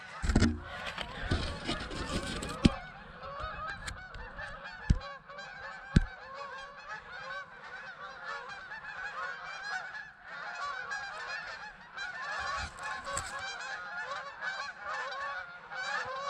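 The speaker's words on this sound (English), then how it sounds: "Oh, here come the geese." A flock of Canada geese approaching outdoors, honking continuously in dense overlapping calls, with a few sharp knocks early on.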